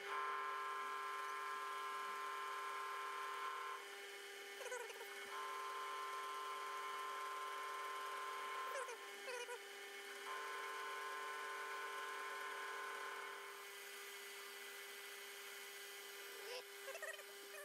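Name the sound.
lathe turning an indicator holder part, interrupted cut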